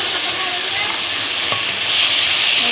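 A loud sizzle rises from tomatoes and ground spice paste frying in a pan, with scraping stirs and a few clinks. The hiss swells toward the end.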